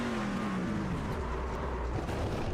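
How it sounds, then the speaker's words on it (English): Onboard a race truck at a short oval track, the engine roars loudly as its pitch falls and winds down around a crash, with a rough continuous rumble and no voices. "here's another look at our accident from just a moment ago with the 20 truck"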